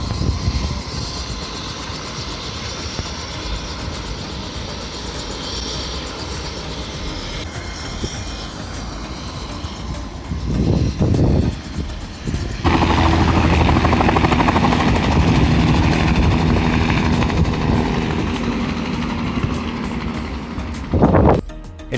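Helicopter tour flight at Piedra del Peñol in Guatapé, Colombia: a continuous loud rotor and engine drone throughout, with a louder, more forceful stretch in the second half.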